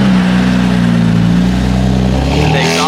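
A BMW F80 M3 engine rumbles loudly up close, its exhaust droning in a deep steady note that shifts slightly as it revs.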